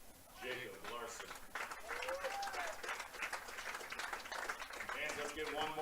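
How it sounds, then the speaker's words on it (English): Crowd applause rises at a high school baseball game to honor the 2025 senior players, a steady spread of clapping and cheering that sits under an announcer's voice over the loudspeaker. "let's get one more round of applause for all of the VHS 2025 senior baseball players"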